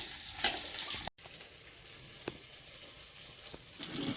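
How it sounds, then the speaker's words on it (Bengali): Rice fries in a pan with a steady crackling sizzle, broken by a brief silent gap and a few sharp scraping or stirring taps. "ভাত ভাজতে হবে"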